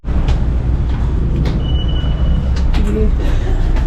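RER train in a Paris station, a loud steady rumble of wheels on rails with brief metallic squeals and hisses, close and continuous throughout.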